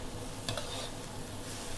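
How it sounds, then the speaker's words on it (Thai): Shrimp and bamboo shoots stir-fry in a pan with a steady, close sizzle and a brief scrape of a utensil against the metal partway through. "แอนจะเอากุ้งมาผัดกับหน่อไม้นะ"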